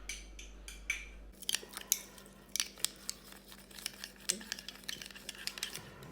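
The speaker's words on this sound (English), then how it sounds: "Small spoon, you mix it well" A small spoon mixes seasoning for roast chicken, with quiet scattered clinks and scrapes against a bowl, faint and close, heard alone.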